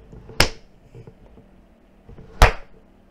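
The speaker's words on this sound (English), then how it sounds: "Okay, that's the clap." Two single hand claps ring out sharp and close, about two seconds apart, against quiet room background.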